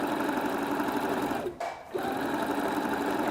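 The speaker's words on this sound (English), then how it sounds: "Just stitching around." Sewing machine stitching around fabric, a loud, close, steady mechanical whirr that stops briefly midway and then resumes at the same pace.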